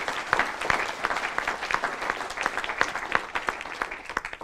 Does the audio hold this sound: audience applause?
yes